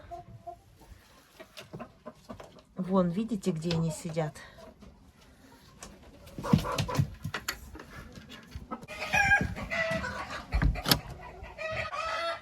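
Marans hens and a rooster cluck and murmur inside a coop at dusk, soft bursts of clucking close by while a person talks over them.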